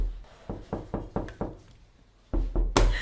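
Knuckles rap on a door in a Twitch stream clip, five evenly spaced thuds followed by a pause and then two louder, heavier knocks, close and distinct.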